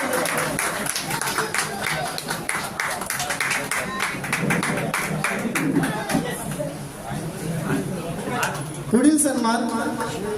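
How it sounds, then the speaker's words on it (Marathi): An audience applauds award winners at a national and international short film festival prize ceremony, with rapid clapping that fades and returns beneath a person talking. "विजेत्यांसाठी एकत्र जोरदार टाळ्या होऊन जाऊ द्या"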